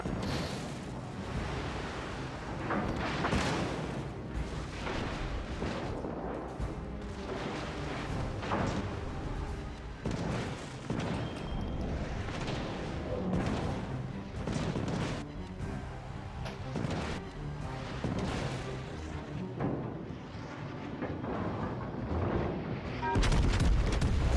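Battleship guns firing in the naval game World of Warships Legends, heavy booming blasts and rumbling explosions recurring through a dense, loud mix of in-game battle noise, with a voice talking at times.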